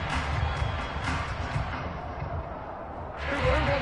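Home crowd at a Monday night NFL football game, Cardinals at Cowboys, a broad roar of cheering filling the stadium, swelling at the start and again near the end, with a broadcast commentator talking over it.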